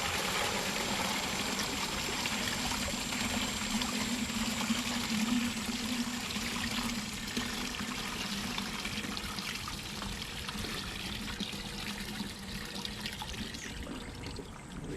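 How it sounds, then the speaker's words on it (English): Water is poured off clay slurry through a screen while refining gathered clay for ocarina making, a steady, close trickle and splash that runs unbroken and gently softens toward the end. "decant the water"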